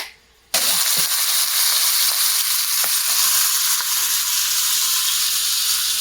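A beef roast sears in a cast iron pan, starting after a brief quiet moment with a loud, steady close-up sizzle and scattered pops that continue throughout.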